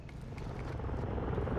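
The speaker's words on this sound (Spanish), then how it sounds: "Viene un helicóptero de vigilancia." A surveillance helicopter approaches in a video game, its rotor rumble a low, steady drone that swells slightly as it nears, with no talk over it.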